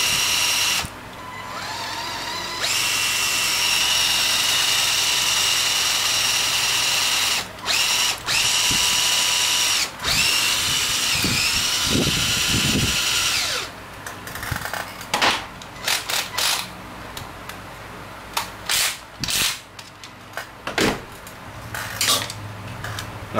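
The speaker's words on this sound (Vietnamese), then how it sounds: "Này, kẹp cho máy khoan quay thử." Power drill whirring steadily as it spins a clamped 6 mm bit, loud and continuous for about thirteen seconds, then stopping, followed by scattered clicks and handling clatter of hand tools.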